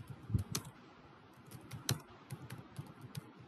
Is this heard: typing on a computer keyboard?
yes